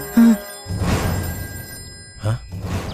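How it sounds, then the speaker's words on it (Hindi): A telephone rings in a comedy film scene, sounding in a couple of bursts with no talking over it. "ये आखिर तुम्हें क्यों फोन कर रहा है?"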